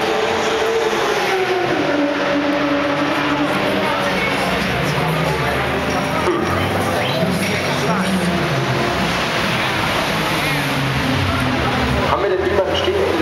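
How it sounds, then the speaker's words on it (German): A Manthey Porsche race car enters parc fermé at the Nürburgring after the ADAC Ruhr-Pokal race, its engine a steady, dense drone with crowd and circuit noise throughout, and a commentator talking over it. "Während wir das Siegerauto sehen, den Mannheim Porsche Mark Lieb, der den Helm abzieht."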